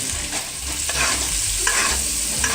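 Steak sizzling in a hot pan while being basted with butter, a loud, close frying hiss broken by rhythmic spoon scrapes and splashes of fat, with no voices.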